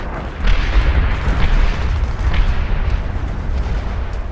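High-explosive naval shells from the USS Texas detonating in Medal of Honor Airborne, a long rumbling roar of booming blasts with several heavier thuds rolling through, loud and without speech.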